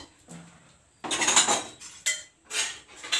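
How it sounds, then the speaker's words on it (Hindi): In a home kitchen during an early-morning routine, pots, pans and dishes clatter and clink in three or four loud, uneven bursts separated by short pauses, with no talking. "सिस्टर बर्तन वर्तन फोड़ फाड़ रही है"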